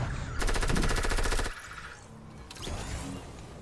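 Automatic rifle fire in the Fortnite video game, a rapid burst of shots lasting about a second, then quieter scattered game sounds and another softer burst near the end, no talk.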